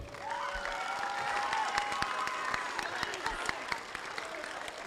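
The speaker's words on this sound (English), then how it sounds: "Let's hear it with a big round of applause for all the teams competing today" Crowd applause and some cheering for teams at an FTC robotics qualifier tournament, many hands clapping in a hall with a few sharp claps, whistles and voices mixed in.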